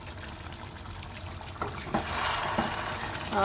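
Desi chicken with green chillies sautéing in a pressure cooker, a steady close sizzle with stirring scrapes growing louder toward the end, no voices.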